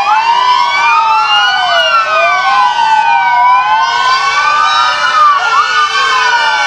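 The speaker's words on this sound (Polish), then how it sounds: "taki duży wóz strażacki z małym Feuermannem" A large fire engine's siren wails loud and close as the truck passes during a street parade, the rising and falling tones sweeping continuously without any speech.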